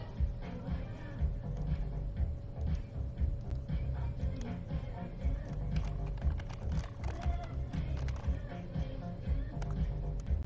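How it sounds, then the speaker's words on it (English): Close-up typing on a computer keyboard at a busy comic convention, with a steady run of soft key clicks under loud crowd chatter and hall noise. "I'm literally typing this into CGC or CBCS."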